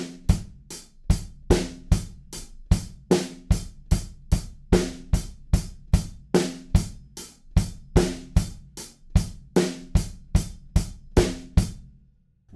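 A drum kit plays a steady rock beat, with crisp, evenly spaced kick and snare hits and bright cymbal strikes building slightly through the verse, loud and alone.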